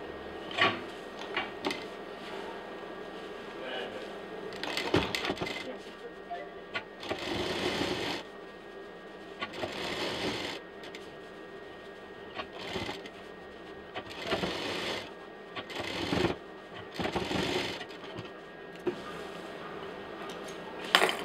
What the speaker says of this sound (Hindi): बहुत सफाई के साथ इसको अब हम सिलाई करेंगे